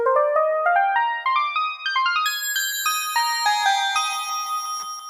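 Bright video-game chime tones ring out in a rapid rising melodic run, clear, close and continuous with no voices.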